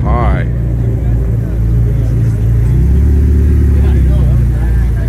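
A car engine rumbles loudly and steadily close by at a cars and coffee show, with a rising rev near the start and a continuous low growl throughout.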